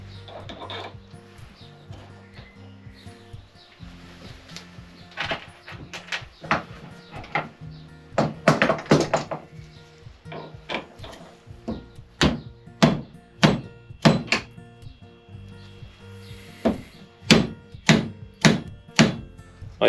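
A Triumph Daytona 955i starter motor bearing being driven onto its seat with a socket, a series of sharp metallic taps and thunks, irregular at first then in evenly spaced single hits, close and loud.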